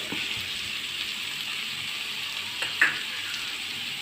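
Grated carrot being stirred into frying onions in a pan, a steady soft sizzle throughout with a couple of brief scrape or clatter accents near the end, no voices.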